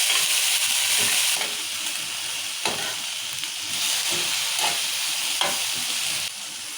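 Onions and tomatoes fry in a pan for a drumstick masala curry, giving a steady close sizzle with a few soft spoon-stirring scrapes and clinks throughout, no voices.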